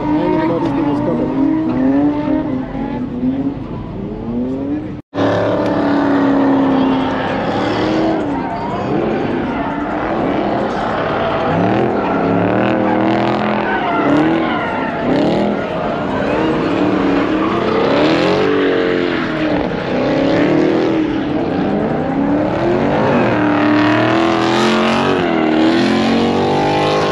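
A track car revs loudly and drives with tires squealing and skidding at a legal pit car meet in Atlanta, a sustained roar that fills the scene over crowd voices, broken by one brief gap.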